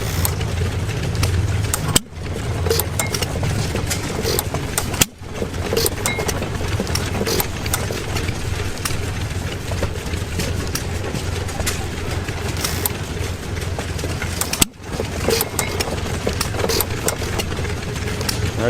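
An antique gas engine runs steadily at a steam and gas engine show, a continuous close rumble with a few sharp dips and pops, while people talk nearby.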